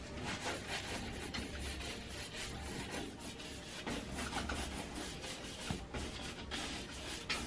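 A brush scrubbing oil paint onto canvas, a continuous close dry rubbing scratch with small uneven strokes and no speech.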